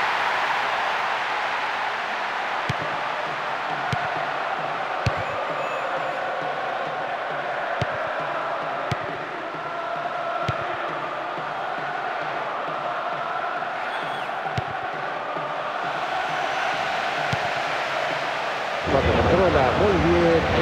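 Steady stadium crowd noise in a football video game, a broad roar of cheering and clapping, continuous throughout with a sudden louder burst near the end.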